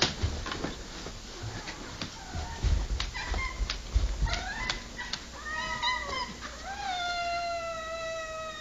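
Several house cats meow repeatedly at dinner time, their cries growing longer and more drawn out toward the end, with a few brief bumps and clatters underneath and no talking.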